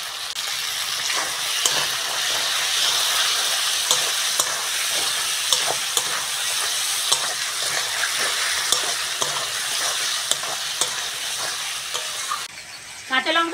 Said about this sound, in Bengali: এবার কাঁচা লঙ্কা টমেটোটা দিয়ে দেবো।